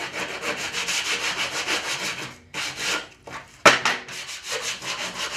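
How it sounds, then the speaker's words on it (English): Sandpaper wrapped around a wood scrap rubs back and forth along the rough edges of pallet wood, a steady close scratchy rasp in quick repeated strokes that breaks off briefly, then resumes with a sharp knock. "take the sandpaper, get a scrap of wood, and this saves your fingers and splinters, and you can work away getting those rough edges off"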